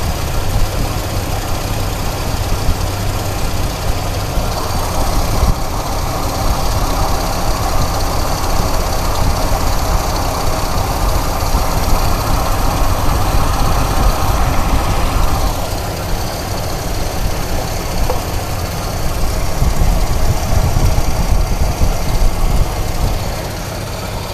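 Engine with a carburetor that needs rebuilding, idling and running steadily: a loud, close, constant low rumble that holds for the whole stretch with only slight swells in level, no voices.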